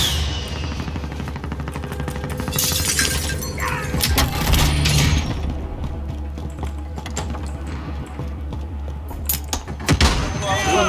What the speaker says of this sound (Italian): Spara da dietro.